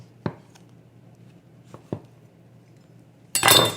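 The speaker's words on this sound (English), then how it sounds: "it's very easy just to slice these larger pieces into slices" A knife cuts through peaches on a board in a home kitchen, making a few separate sharp chopping knocks spaced apart, then a louder, brief burst of clatter at the very end.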